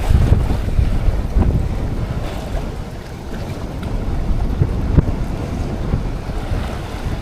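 Strong wind buffets and roars across the microphone in heavy gusts, with rushing water and waves churning underneath; no voices.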